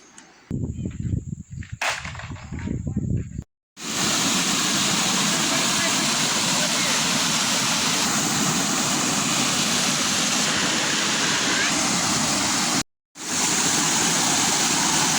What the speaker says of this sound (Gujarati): અને નીચે ઝરણું વહી રહ્યું છે